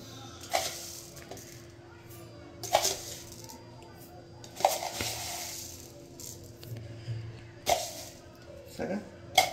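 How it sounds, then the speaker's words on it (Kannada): Cups and spoons clink at intervals while coffee is made with hot milk and sugar in a home kitchen, sharp small chinks scattered among quiet background murmur. "ಸೂಪರಾಗಿ ಕಾಫಿ ಮಾಡ್ತಾ ಇದ್ದೀನಿ."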